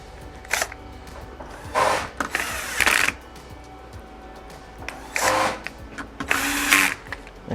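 Screws driven into a Sony XBR-65X850E 4K TV while refitting the tuner board, short whirring bursts from an electric screwdriver between quiet pauses, close and fairly loud, no voices.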